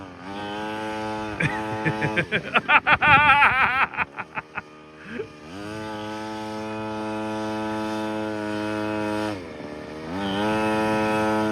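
A small engine fitted to a motorized kitchen stool racer drones loudly with strong harmonics, revving and sputtering unevenly through wheelies before settling back into a steady idle-like hum.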